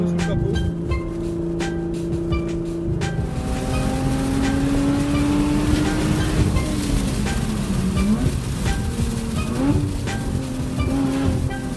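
Lotus Evora 2018 with a 400 hp engine, a steady loud drone running throughout, its pitch climbing and falling as the revs change, with a continuous broadband rush of road and wind noise beneath.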